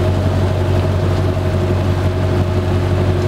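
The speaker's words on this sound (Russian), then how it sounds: "Катерок только ковш тащит." A small motorboat towing a dredger bucket on a river, its engine droning steadily and loudly with a constant low hum and water wash, continuous and close.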